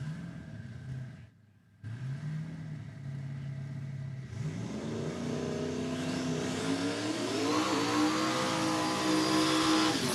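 Race cars at Saskatchewan International Raceway during a drag racing event idle loudly, then rev higher and higher in rising, sustained engine roars, a brief cut near the start, close and continuous with no talk.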